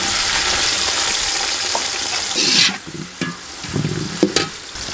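Onions hit hot cooking oil in a pot for village-style mutton biryani, giving a loud, dense sizzle that thins after a couple of seconds into quieter frying broken by a few sharp stirring clatters.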